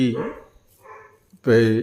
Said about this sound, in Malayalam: ഇപ്പോൾ തന്നെ പട്ടികളുടെ ശബ്ദം